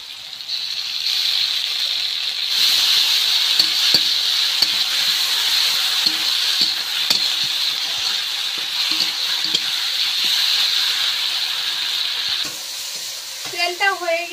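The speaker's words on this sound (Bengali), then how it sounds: "এবার আদা রসুন বাটাটা দিয়ে দেবো।" Ginger-garlic paste fries in hot oil in a kadai, a steady loud sizzle with scraping stir strokes throughout. A voice is heard briefly near the end.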